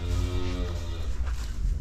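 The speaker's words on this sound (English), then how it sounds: "This cow calved a Kowalski heifer calf last night, just after supper" A cow moos in a calving pen, a low, sustained bellow running almost two seconds, close and fairly loud, with steady barn noise behind it and no talk.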